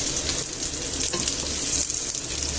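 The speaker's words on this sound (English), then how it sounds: "we'll just fry this off until the garlic is browned off also" Eight or so garlic cloves fry in a pan, giving a steady, loud hiss of sizzling oil that runs throughout with small crackles and no voices.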